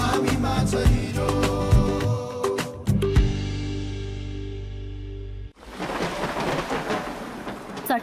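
A thunderstorm sound effect from a disaster awareness ad: loud rolling thunder and heavy rain fill the first half, then cut abruptly to a quieter, rain-driven storm wash.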